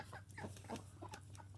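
A hen and a rooster clucking at each other on a farm animal sanctuary, a quick run of short, agitated clucks and squawks, close and fairly faint over a low background hum.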